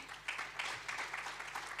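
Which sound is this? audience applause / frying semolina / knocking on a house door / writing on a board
audience applause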